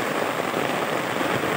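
Heavy rain pours on a farm in Bangladesh, a dense, loud, even hiss of drops hitting the ground with no pause.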